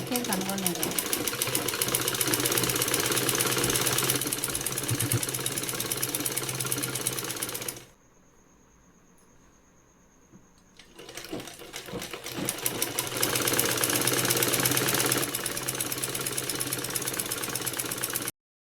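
A sewing machine stitches an envelope-style pillow cover in fast, steady whirring runs, stops for about three seconds of near silence, then starts again for another long run, with a voice talking faintly over it.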